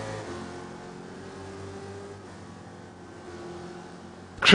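Race car engine in the iRacing video game at Daytona during a 2.4-hour race: a steady, moderately quiet engine drone that holds pitch, then drops slightly, ending in a sudden loud burst.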